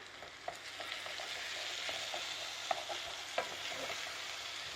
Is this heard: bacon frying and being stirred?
yes